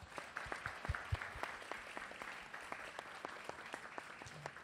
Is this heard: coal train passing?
no